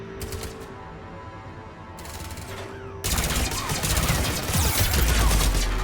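Rapid turret gunfire in Mass Effect 3 erupts halfway through as a loud, dense burst of shots, replacing a quieter stretch of mechanical clicking and whirring game sounds.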